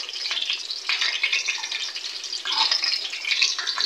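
Spices such as fennel powder, dry coriander and garam masala frying in a pan, giving a steady close sizzle and crackle with small bursts as they are stirred.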